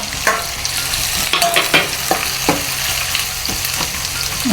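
Onions and green chillies sauté for a Jaffna-style chicken curry: a loud, close sizzle punctuated by repeated sharp scrapes and taps of a spoon against the pan, with no voices.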